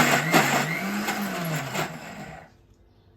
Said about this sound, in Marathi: आणि पुन्हा मिक्सर मध्ये वाटून घ्यायचं.